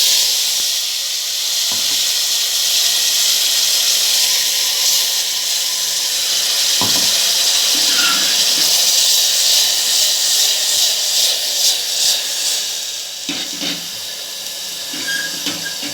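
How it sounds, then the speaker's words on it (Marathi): Ground onion and tomato masala sizzles loudly and steadily in a hot turmeric-tempered pan for a chickpea curry, a continuous hiss with a few brief clanks and scrapes of stirring, with no voices. "जो आपण वाटून मसाला घेतला आहे ना कांदा आणि टमाटर तो ह्याच्यामध्ये टाकून घ्यायचा"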